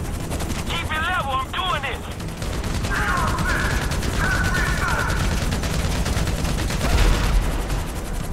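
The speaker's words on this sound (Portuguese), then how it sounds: "Eu sei que o helicóptero tá tomando tiro." Gunfire aimed at a helicopter in the video game GTA V, with bursts of automatic fire rattling continuously under a steady drone, interrupted by brief chirping game tones.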